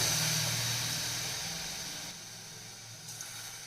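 A steady hiss of steam and sizzling as water hits a hot pan, gradually fading quieter over a few seconds.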